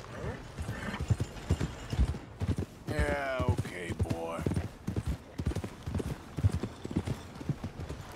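Horse hooves clip-clop in a steady rhythm nearby in the video game Red Dead Redemption, with a horse's whinny partway through and someone talking over the hoofbeats.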